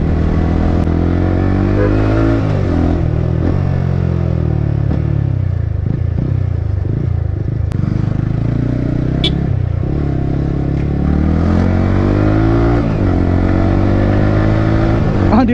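Yamaha R15 motorcycle fitted with an Akrapovic exhaust, dirty after rain, idling and revving with a steady engine drone and occasional sharp pops, close and loud throughout with no talk.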